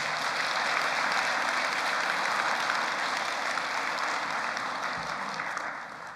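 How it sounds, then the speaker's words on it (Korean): A church congregation applauds in celebration at a Sunday service, a dense, steady wash of many hands clapping together that holds loud throughout and tapers slightly at the end. "축하의 박수를 좀 크게 보내시면 고맙겠습니다"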